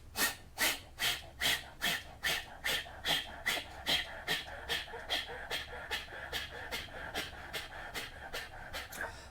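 Forceful kapalbhati pranayama breathing: a steady train of about twenty sharp nasal exhalations, roughly two per second, loud and close at first and gradually softening, with no talk.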